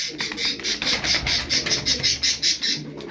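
A flock of game pigeons of a distinct breed is heard up close: a rhythmic series of quick fluttering, chirring bursts repeating about every quarter second, with no voices.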